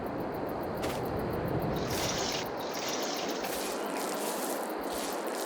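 A dirty tractor is washed in the Farming Simulator 22 video game: a steady, loud hiss of spraying water continues throughout, changing tone partway through, with no voices.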